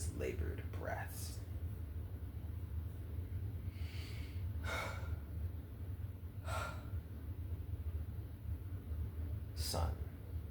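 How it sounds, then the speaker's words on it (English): A character in a film scene breathes in labored gasps, several sharp, strained intakes spaced apart over a low steady hum, faint and close. "as you listen to his labored breaths"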